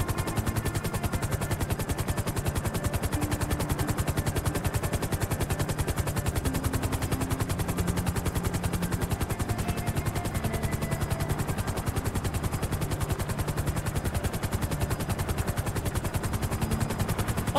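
Helicopter rotor noise thumps continuously in the GTA 5 Online video game, mixed with bursts of gunfire, loud and dense throughout without a break.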